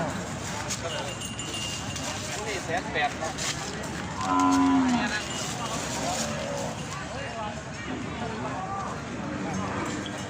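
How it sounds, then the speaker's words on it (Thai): A good-breed water buffalo from Ku Kaeo lets out a low moo partway through, rising clearly over a busy outdoor farm background with someone talking throughout. "ควายงามนะคะควายงาม"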